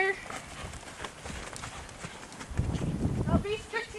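A horse canters during a training session, hooves drumming in an uneven rhythm that grows louder toward the end, with a person talking over it.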